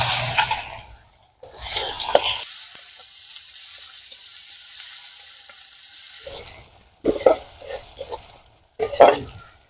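Dried red chilies, bay leaves, chopped onion and panch phoron hit hot oil in a pan, giving a steady close sizzle for several seconds, broken by a few short clattering stirs at the end.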